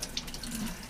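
Cold water runs from a kitchen tap while a green drink is being made: a brief, soft, steady splashing stream heard on its own.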